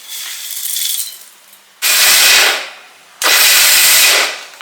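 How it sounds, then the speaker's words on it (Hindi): Seeds are ground in a mixer grinder in short bursts: a softer whir, then two loud, harsh roaring pulses of about a second each with brief pauses between them, close and without speech. "सब कुछ एक साथ करोगे तो प्रॉपरली नहीं होंगे, बिकॉज सबको अलग अलग तरीके से रखना होता है।"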